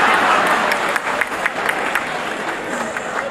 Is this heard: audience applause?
yes